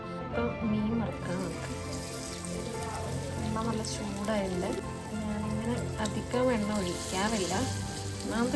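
Mackerel fries in hot oil in a pan in a home kitchen, a steady close crackling sizzle running throughout while a person talks over it.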